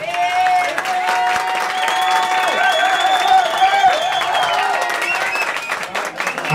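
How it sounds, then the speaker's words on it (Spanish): An audience at a 2011 Halloween costume contest gives a sustained burst of applause for a contestant, with dense clapping and high whistles and cheers running over it. "Otro aplauso para Alejandro"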